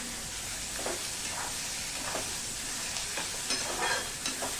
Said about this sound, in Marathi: हे बघा मस्तपैकी मीठ घातलं की कांदा पटकन परतला जातो